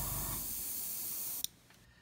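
A steady hiss of an airbrush spraying thin paint wash on a 1/35 scale tank model for over a second, then cutting off abruptly with a small click, leaving near silence.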